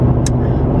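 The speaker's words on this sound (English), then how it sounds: "hopefully I don't have to record this voiceover over when I get home because it was too loud in the car" Steady low rumble of a car cabin while driving, loud and continuous, with a brief hiss partway through.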